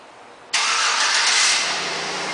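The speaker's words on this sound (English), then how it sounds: "And the vehicle turns right on." A 2009 Chevrolet Suburban LT engine starts by remote start: a sudden crank-and-catch burst, then a steady idle that settles slightly, close and alone.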